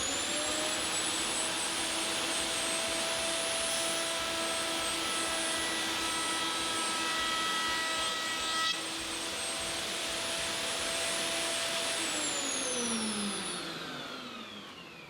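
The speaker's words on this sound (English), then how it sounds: "Wow, the suction works amazing." Dust extraction roars at a router table during chamfering, a loud steady suction whine with high tones that holds throughout, then tapers as the motor winds down near the end.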